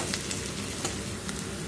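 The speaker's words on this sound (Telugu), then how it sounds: "ఆనియన్స్ వేసాం కదా కొద్దిసేపు కొంచెం కలర్ చేంజ్ అయ్యేంత వరకు వేయించుకుందాం" Onions fry in oil with tempering spices for a Lingapuram curry, giving a steady, close crackling sizzle with small pops and no voices.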